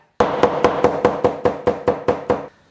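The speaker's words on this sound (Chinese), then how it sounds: "蒜的话就宰。" Garlic being chopped with a knife on a board for a Sichuan-style braised sea bass dish, about eleven sharp, evenly spaced thuds in quick succession, close and loud, with no talk.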